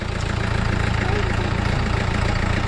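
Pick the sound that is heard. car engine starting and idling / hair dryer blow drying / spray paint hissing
car engine starting and idling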